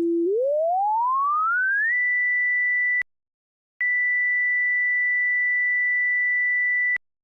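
A pure sine test tone sweeps smoothly upward in pitch, then holds steady at a fixed high pitch, cuts out briefly with a click, and returns at the same steady pitch before stopping with another click; no voices.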